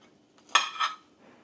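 Cutlery scraping and clinking against a plate while slicing into a soft egg yolk on avocado toast, two short close scrapes in quick succession in an otherwise quiet moment.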